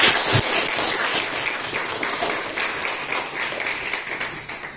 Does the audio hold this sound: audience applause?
yes